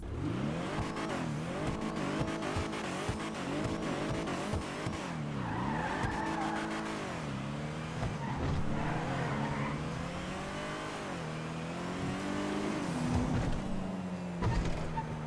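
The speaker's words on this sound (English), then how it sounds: "We're going to do a full sound test and a review on the car." The Karin Asterope GZ sports car engine in GTA Online revs up and down repeatedly with tire squeals mixed in, a continuous, synthetic-sounding drone with rising and falling pitch sweeps.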